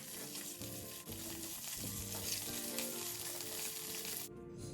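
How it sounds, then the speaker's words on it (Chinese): Shiitake mushrooms stir-fry in a wok of two tablespoons of hot cooking oil over medium heat, giving a loud, steady, close sizzle with scraping stir sounds throughout, cutting off abruptly just before the end; no one speaks. "油热后倒入备好的香菇炒香"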